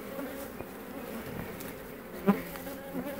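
Honeybees buzz steadily around a trap-out hive setup, with a close hum rising and falling as individual insects fly past, plus one brief louder pass near the microphone.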